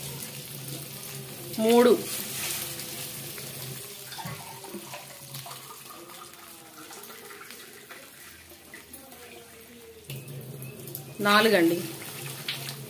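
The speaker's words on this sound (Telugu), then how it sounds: "4 గ్లాసులు వాటర్ వేసేసుకున్నాను." Water is poured into a cooking pot for upma in two short splashing bursts at the start and end, and a person talks quietly between and over them.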